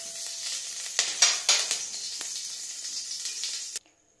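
Ghee hits a hot wok with a soft, steady sizzle, faint and close, broken by a few sharper spits and scrapes before cutting off abruptly.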